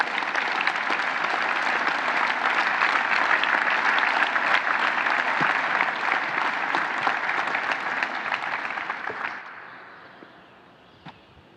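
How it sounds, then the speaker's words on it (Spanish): Audience applause honoring the founders of Infonavit at its general assembly in Palacio Nacional: dense, sustained clapping that holds steady for about nine seconds, then quickly thins out and fades to a few scattered claps. "Yo pido un aplauso para los fundadores de esta gran institución."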